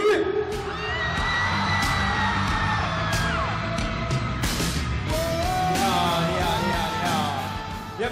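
A crowd of fans screams and whoops loudly to welcome a singer at a 2018 Ballantine's brand launch event, a sustained roar with shrill individual shrieks rising above it.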